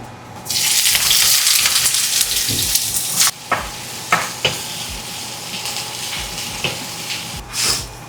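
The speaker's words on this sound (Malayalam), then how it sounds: "കടായിൽ കുറച്ച് ഓയിൽ ഒഴിച്ചിട്ടുണ്ട് അത് ചൂടായി നമുക്ക് ഇനി അത് സവോളയിലിട്ടിട്ട് വഴറ്റാം" Onions sautéing in hot oil in a kadai: a loud, steady sizzle bursts in and fills the scene, broken by sharp scraping stirs and clinks, then fading to a softer crackle with occasional stirring knocks.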